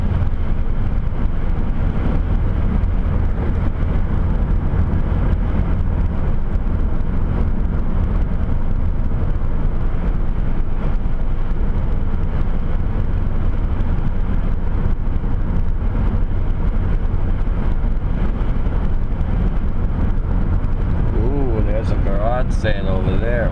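A car cruises steadily along a wide open country road, its engine and tyre roar a constant, loud drone with wind noise throughout, and a voice talks over it.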